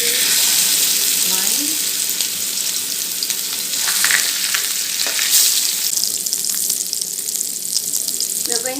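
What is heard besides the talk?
burger patties sizzling as they fry in hot oil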